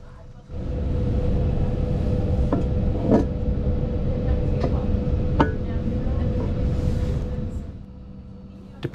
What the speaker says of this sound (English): I can tell you that we are on a Class 80 electric multiple unit